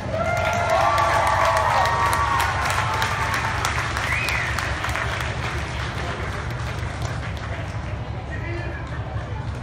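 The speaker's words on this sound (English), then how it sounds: "So give him another round of applause." A crowd at a car burnout event applauds and cheers loudly and continuously, with shouts rising over the clapping and a voice on a loudspeaker talking through it.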